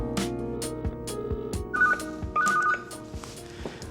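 Telephone ringing in a busy restaurant during service: a short electronic ring repeats a few times over clattering kitchen and dining-room noise, with no speech.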